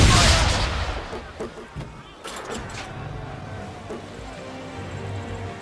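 A musket volley in the Assassin's Creed 3 video game, with a loud burst at the start that decays into a rumbling, noisy backdrop with scattered knocks.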